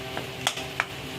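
Potatoes stirred with a spoon in an iron kadhai for vada pav filling, a few soft scraping clinks at irregular intervals, close and quiet over faint background hiss.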